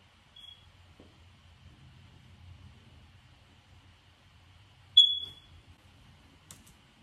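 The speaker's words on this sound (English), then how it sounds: "Fire alarm." A fire alarm gives a single short, sharp electronic chirp in an otherwise quiet room, with only a faint low hum and small knocks around it.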